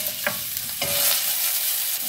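Food fries in a pan while being stirred, a close, continuous sizzle broken by two short scraping strokes of the utensil.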